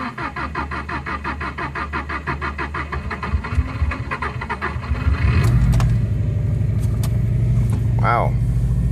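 A turbocharged Subaru Baja running on E85 cranks with a rhythmic whirring for about five seconds after sitting ten hours in cold weather, then catches and settles into a steady, louder idle.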